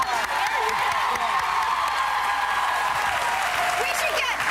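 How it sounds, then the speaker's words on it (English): Steady applause from a crowd fills the whole stretch, dense and continuous at even loudness, with a few cheers and voices mixed in. "I think I need to clap for myself a little bit."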